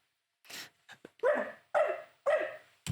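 A voice imitates a dog, first with a few short huffs and then three loud, close barks in a steady rhythm, ending with a brief grunt.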